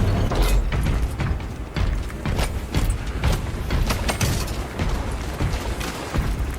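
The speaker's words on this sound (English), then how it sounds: "Opening doors." Heavy mechanical doors opening in the video game Space Marine 2, a loud continuous grinding of gears and ratcheting clanks with repeated booming thuds throughout.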